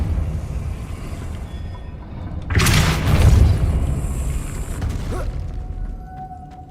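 A Depulso spell cast in Hogwarts Legacy gives a sudden low boom and whooshing burst that swells, then fades into mechanical creaks and a ringing tone, over a faint game ambience, with no talk.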